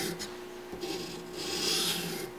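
Poultry shears blade drawn across a sharpener, giving a close, steady rasping scrape in a few continuous strokes that grow slightly louder toward the end, with no voices.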